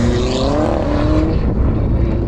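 A 280bhp Abarth 595 engine revs hard and climbs in pitch, shifting up through the gears in quick succession, loud and close, then dropping off toward the end.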